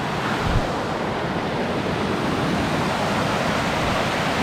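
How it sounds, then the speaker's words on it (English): A forest waterfall in Coorg roars as a loud, dense, unbroken rush of falling water, close and steady with no other sounds. "The waterfall starts there and we are here."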